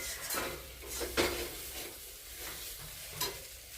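Potato and vegetable curry frying in a pan while a spoon stirs it, with a few distinct scraping strokes near the start, in the middle and near the end over a soft, steady sizzle, close and fairly quiet.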